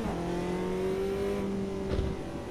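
Race car engine in the Automobilista 2 sim racing game, a steady droning note that holds and edges slightly upward as the throttle stays on, continuous and close with no talking.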